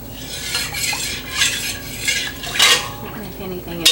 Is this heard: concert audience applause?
no